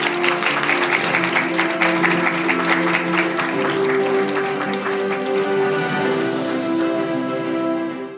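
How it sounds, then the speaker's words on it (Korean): An audience at an impact investing panel discussion applauds as the panelists walk onto the stage, steady clapping over a sustained musical tone that tapers off toward the end. "박수 부탁드립니다"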